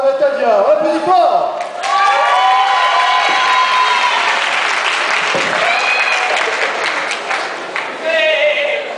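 Audience applause and cheering fill a cosplay contest hall at Japan Impact 2013, steady and loud throughout, with whoops and shouts rising over the clapping.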